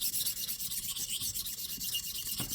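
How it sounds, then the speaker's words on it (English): Fingers rub back and forth over a spokeshave blade on a sharpening stone, a fast steady scratchy rasping in even strokes, close and fairly loud, with no voices. "I'm overlapping my 2 fingers and just rubbing back and forth."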